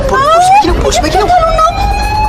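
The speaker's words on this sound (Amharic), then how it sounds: "ፖሊስ መኪናው" A police car siren wails in rising and falling sweeps, loud and close, over rumbling traffic noise. A voice speaks briefly over it.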